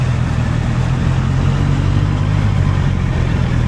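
A Honda CBR 650R sport motorcycle fitted with an e-clutch runs close by with a steady, loud, low engine rumble that holds even throughout, with no clear revving swells.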